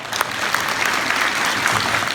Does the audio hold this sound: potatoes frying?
no